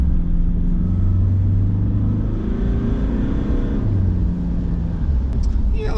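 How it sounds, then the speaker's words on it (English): A 2022 Mitsubishi Triton GLS ute drives along, its engine a steady low rumble with road and cabin noise rising and falling gently under the drive, heard from inside the cab. "just going to go for a little drive in the Triton to see what I think."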